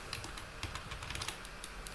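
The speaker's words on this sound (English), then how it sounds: "press this combination on my keyboard" A Shift+Alt+E shortcut pressed on a computer keyboard gives a run of crisp, close key clicks at an uneven pace, with no speech.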